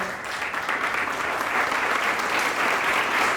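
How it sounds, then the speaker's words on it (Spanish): A Colombian live audience in Barrancabermeja claps in steady, dense applause of thanks, filling the whole stretch at close range with no voices over it. "les demos un aplauso de agradecimiento por esa búsqueda de la verdad"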